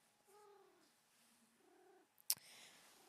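A cat makes quiet, close, moaning vocal calls in two short bursts, followed by a sharp click or thump and a soft rustle.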